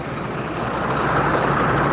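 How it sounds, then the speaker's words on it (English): A truck idles close by on a street, giving a steady, dense, low engine rumble that holds even and unbroken throughout. "I hate the way trucks park in these footpaths."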